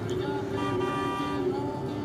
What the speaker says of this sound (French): Accélère, ça klaxonne derrière.